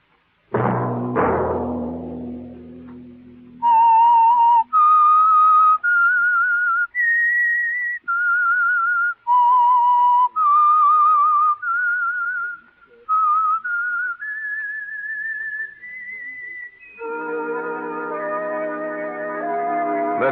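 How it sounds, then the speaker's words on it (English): A clear, melodic whistled theme tune from the 1952 radio program The Whistler, sustained notes rising and falling in distinct phrases, then ending on a held chord of instruments. "that whistle be your signal for the Signal Oil program"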